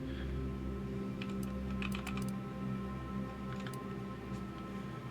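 Keys clatter on a computer keyboard in quick, uneven bursts while a name is entered for a character in The Outer Worlds 2, set over a steady low hum of game music and room tone, with no talking.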